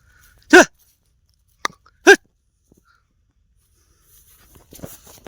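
A black dog gives a few sharp, isolated barks or yips, two louder ones a second and a half apart, then soft scuffling noises.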